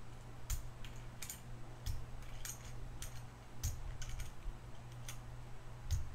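A thin keycap puller pops plastic keycaps off an EnjoyPBT keyboard, giving a scattered series of sharp little clicks, close and quiet over a faint background hum.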